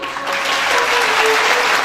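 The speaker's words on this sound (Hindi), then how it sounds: "ईमान से ताली बजाएं।" A church congregation claps together in dense, continuous applause, loud and steady for the whole stretch.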